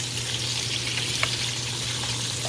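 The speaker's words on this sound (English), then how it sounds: "I'm just gonna let it finish frying" Oil sizzles and crackles steadily as chicken fries close up, a dense constant hiss with occasional small pops over a low electrical hum.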